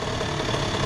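A 2001 Honda CR80 two-stroke dirt bike engine idles low, a brief, close, steady buzzing putter with a dense mechanical rattle.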